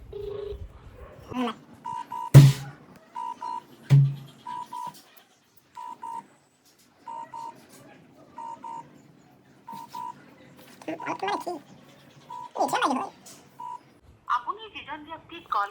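Telephone keypad tones beep one by one as a number is dialed to call someone back, short evenly spaced beeps spread across the stretch, mixed with talking and occasional dog barks and whimpers.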